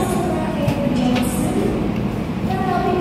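The Kamandaka passenger train stands at an Indonesian station with a loud, steady rumble of engine and carriage noise. A faint squeal or tone cuts in near the end, and some voices are mixed into the din.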